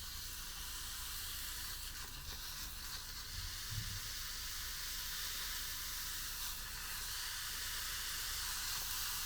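Mushrooms frying in an aluminium Soviet mess kit from 1991, a steady soft sizzle and hiss running throughout at low level, with no talk.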